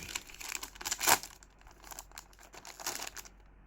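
A Saint Seiya trading card pack being torn open by hand, with quiet close crinkling and ripping of the foil wrapper in several short bursts, one sharper tear standing out.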